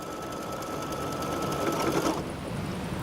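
An embroidery machine stitching a zippered bag, giving a steady fast mechanical whirring and rattle that runs continuously up close.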